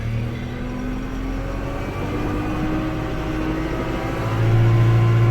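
A Kubota L6060 tractor in 4-wheel drive pulls ahead, its diesel engine droning steadily at close range and rising louder near the end as it moves forward, with no talking.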